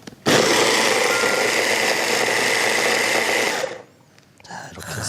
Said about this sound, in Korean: 믹서다.